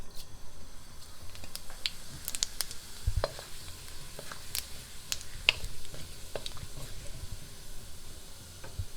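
Cumin seeds sizzle in hot ghee, a faint crackling hiss with scattered sharp pops and spits over a low background.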